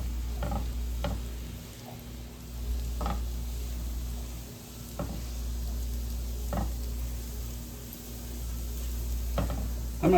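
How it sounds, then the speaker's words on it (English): Garlic browning in butter in a pan, a soft steady sizzle over a low hum, broken by a few sharp clicks of stirring spaced a second or two apart, no voices. "It's hard not to brown garlic in 3 minutes."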